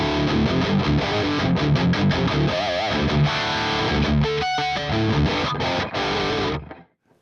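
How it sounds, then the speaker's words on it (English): Distorted electric guitar tone from a Fractal AX8 amp modeler, bright and saturated, playing dense chords and riffs loudly for about seven seconds before cutting off. "This tone is pretty bright and got some saturation in it"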